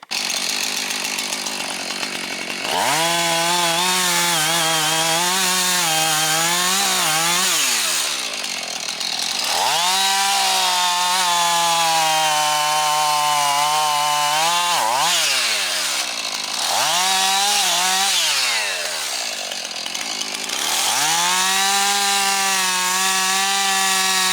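A chainsaw roars up close, its engine revving and bogging down through several long cuts into a standing tree being felled with a snatch block, separated by short pauses.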